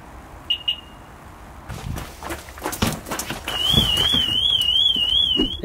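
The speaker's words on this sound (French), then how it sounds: "quand l'alarme est activée, la sirène résonne." A loud motorhome anti-theft alarm siren wails with a rapidly warbling tone, preceded by two short beeps and some clattering noises.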